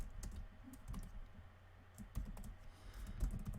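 Rapid clicking keystrokes on a computer keyboard, typed in irregular bursts close by against a low background hum, with no talking.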